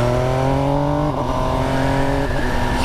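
A 2021 MV Agusta Dragster motorcycle engine pulls away, its loud steady drone and induction roar shifting pitch through gear changes, close and continuous.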